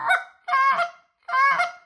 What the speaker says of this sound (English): I like about this medium-sized call, the Omega or the exit that we have. I can, hit that deep goose.